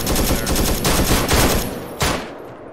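Rapid automatic gunfire rattles loudly in the video game Arma 3, during a Vietnam mission, sustained bursts overlapping for about two seconds, then one last sharp crack that fades away.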